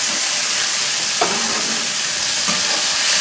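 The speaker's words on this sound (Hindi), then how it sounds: "अब अच्छे से हम भून लेंगे टमाटर प्याज को।" Tomatoes and onions fry in a pan for a village-style corn curry, a loud, steady sizzle with a couple of stirring knocks, close up and without speech.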